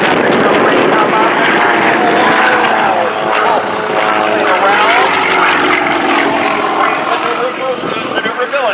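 Sukhoi Su-29 aerobatic aircraft accelerating low over the ground at an air show in the USA, a loud, steady propeller-engine roar that rises as it climbs, with commentary talking over it throughout.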